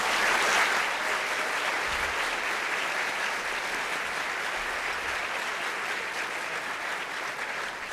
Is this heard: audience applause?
yes